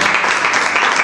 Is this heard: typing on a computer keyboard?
no